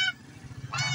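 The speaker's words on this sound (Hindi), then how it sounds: "ये बत्तखें हैं" Ducks in a village in Sialkot, Punjab, giving loud nasal honks, one at the start and another near the end, with quieter calls between them.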